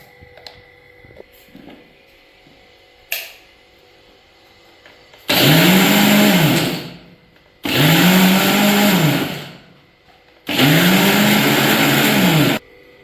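A kitchen mixer grinder crushes onion, garlic, cumin and turmeric in three loud, close bursts of whirring motor, each lasting about two seconds and separated by short pauses, with a faint clatter before them.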